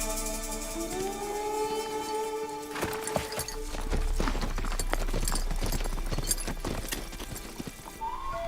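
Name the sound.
horses' hooves clip-clopping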